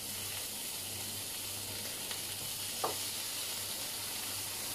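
Prawns sizzle in oil in a paella pan, a steady, fairly quiet frying hiss with a faint tap or two from handling.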